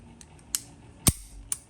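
A Beretta 92S surplus pistol's trigger pulled dry, giving a few small, sharp mechanical clicks close up, one click standing out louder than the rest.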